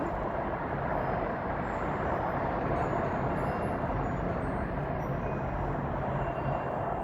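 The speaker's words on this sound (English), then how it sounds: "Sorry, train." A train passing nearby gives a steady, broadband rumble that holds at an even loudness throughout, with no voices over it.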